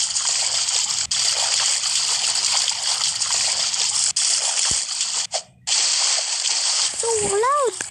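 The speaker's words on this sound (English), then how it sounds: "So loud. The noise of the water." Loud, continuous running water roars close by, broken by a brief dip, with a short vocal sound near the end.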